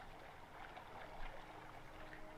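Steady watery rush like a flowing stream or lapping shore in the game Little Nightmares 2, continuous and fairly faint with slight swells, no voices.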